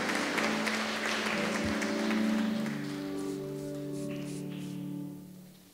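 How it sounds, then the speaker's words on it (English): A church congregation at an Education Sunday service gives a round of applause, a steady wash of clapping mixed with sustained tones beneath it, holding for several seconds before tapering off. "Can we give them a round of applause?"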